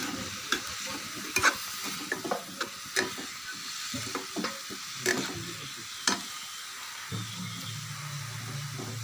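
Tomatoes frying and being stirred into a radish chutney in a pan, with scraping spoon strokes and taps over a steady close sizzle that continues throughout.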